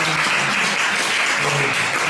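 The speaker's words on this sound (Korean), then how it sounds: "축하 박수 한번 드리겠습니다." Congregation in a church service applauds in congratulation, a steady, dense wash of clapping from many hands filling the room for about two seconds without a break.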